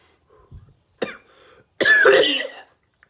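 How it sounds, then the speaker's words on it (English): A person coughs alone in a quiet room: a short cough, a pause, then a longer harsh coughing burst, with a brief soft throat sound before and a tiny click at the end. "Just got the morning cough"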